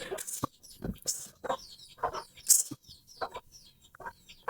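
Chickens cluck and squawk in irregular bursts, several birds near and far, with scattered rustling and no talk.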